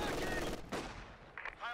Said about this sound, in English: making pretty good use of his machine gun so far